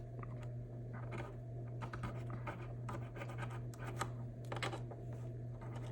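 Close, dry scraping and scratching as cork is pried and scraped off the metal keys of a brown clarinet, a steady run of short rasping strokes over a constant low hum.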